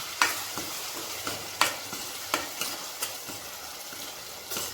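Tomato paste being stirred into a frying potato curry in a pan, with a steady soft sizzle and a spoon making repeated scraping strokes at a regular rhythm, close and moderately quiet, no talking.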